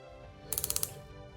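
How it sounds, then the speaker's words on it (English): Ratcheted knee joints on a 1/6 scale Hot Toys action figure give six quick, crisp plastic clicks in an even row, close and quiet, with no talk. "Ratcheted knees, very cool."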